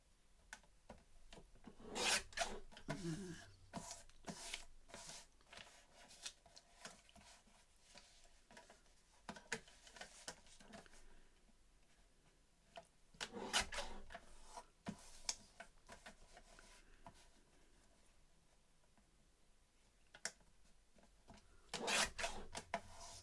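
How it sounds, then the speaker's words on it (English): Scissors snipping pieces off a clear acetate sheet: close, quiet cutting and rubbing strokes in scattered bursts, with a few louder snips and short pauses between them, no voices. "So I'm just going to cut them off."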